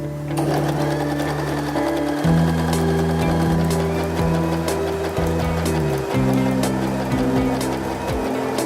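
A Janome 311 sewing machine stitches steadily up close, its motor humming loudly throughout while its pitch shifts a few times as the sewing speed changes, with no talk.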